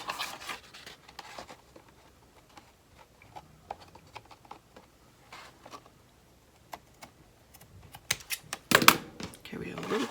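Paper for a collage birthday card is cut, producing faint, irregular snipping and rustling ticks close by that grow denser and louder near the end.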